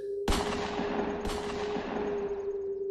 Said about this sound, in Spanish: En ese momento escuchamos 2 disparos provenientes del área de las celdas.